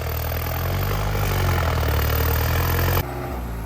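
A New Holland 5630 tractor engine runs steadily at a loud, close idle with a low droning rumble, dropping slightly in level near the end after gears are checked.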